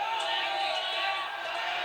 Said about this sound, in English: Fans cheering for Hayabusa.